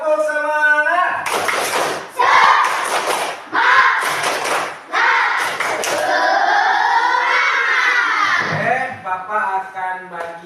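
Schoolchildren in a primary school classroom in Cianjur break into a rhythmic spirit clap, loud bursts of clapping with shouted chants in short repeated phrases, voices dominant throughout.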